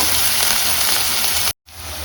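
Onion with salt fries in a pan for egg rice, a loud, close, even sizzle that cuts out abruptly for a moment before resuming.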